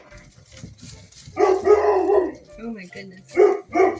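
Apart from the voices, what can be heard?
puppy barking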